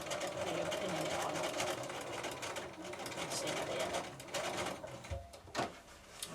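Sewing machine stitching piping around a cushion, running steadily at close range with a brief pause and a few reverse stitches near the end.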